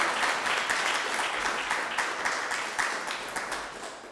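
An audience at a commitment award ceremony bursts into applause, a dense, sustained wash of many hands clapping close and loud for several seconds, easing slightly toward the end with a faint voice underneath.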